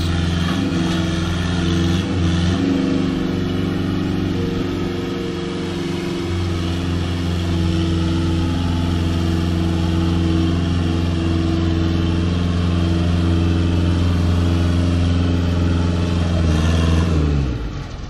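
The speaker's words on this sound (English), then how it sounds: "Oh look, shredding tyres." A tyre-shredding machine runs outdoors with a loud, steady, close droning engine hum that holds throughout and shifts briefly near the end.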